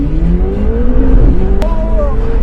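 A McLaren supercar accelerates hard from 0 to 100, its engine note climbing steadily in pitch through the gears, loud and close from inside the cabin, with a brief shift partway through.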